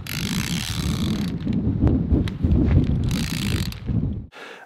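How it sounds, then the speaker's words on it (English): A one-way pulley runs in a rope haulage system, whirring and clicking with a ratcheting mechanical rattle as the rope feeds through, close by with some wind noise on the microphone. "That one-way pulley that gives you no friction whatsoever nearly is amazing."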